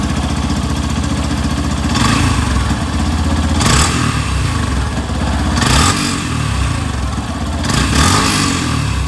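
Engine of a 2025 Yamaha FZS Hybrid motorcycle with integrated starter generator, running steadily and revved in three strong surges, close and loud throughout with no talk.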